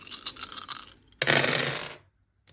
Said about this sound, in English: I'm just going to grab all my 6-sided dice